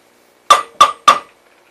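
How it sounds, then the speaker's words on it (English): Dirty dishes are handled in a sink, giving three sharp ceramic clinks about a third of a second apart, close and clear, each ringing briefly before fading into near silence. "I found a sink with a bunch of dirty dishes in it"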